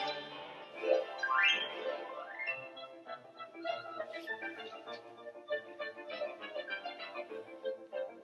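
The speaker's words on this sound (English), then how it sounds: "Can you hear the rattling bones on the xylophone?" A xylophone plays a rattling-bones passage from Carnival of the Animals, with quick dry tapping notes over an orchestral background, moderately loud and without talk.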